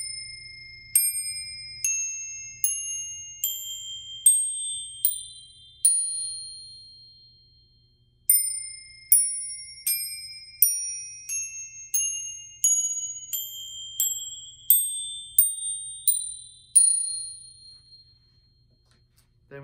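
Weiss chromatic saucer bells mounted on a frame, played as a melody of bright metallic strikes, about two dozen clear ringing notes with decaying tones, close and alone, pausing briefly midway before continuing.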